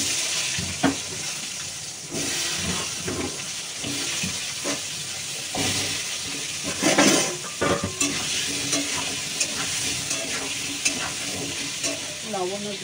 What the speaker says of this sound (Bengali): একটু হলুদ দিয়ে দিই তেলে, নাহলে তো একদম ছ্যাঁত করে উঠবে